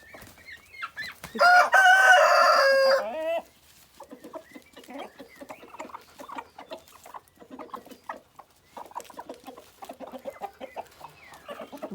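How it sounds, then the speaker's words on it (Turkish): A loud rooster crow rings out, followed by a broody hen's steady, low clucking in short, uneven bursts close by. "Ay gurk tavuk da burada yatıyor değil mi?"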